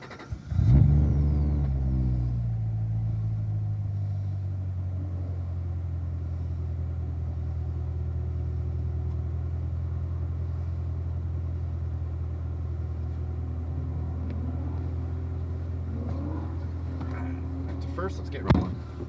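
A race car on an oval track fires up with a sharp burst, then settles into a steady, loud, low idle rumble that holds for a long stretch before rising revs near the end.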